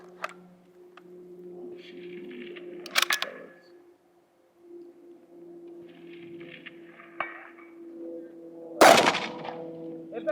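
At a PRS precision rifle match, a single sharp rifle shot cracks out loudly near the end over a quiet outdoor hum, after a softer clack earlier and faint background murmurs.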